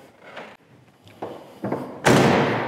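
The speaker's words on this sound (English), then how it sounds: "Doors open and closed really well." Several 1973 Plymouth Satellite car door thumps and clicks, growing louder, ending in a solid slam followed by a sustained rush of noise; no talking.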